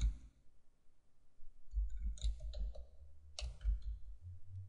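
A few quiet, crisp computer mouse clicks come in small clusters while working in Artrage software, close and soft against near silence.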